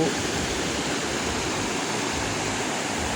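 Constant rushing water, like a stream or small waterfall, an even broadband wash heard close and steady throughout.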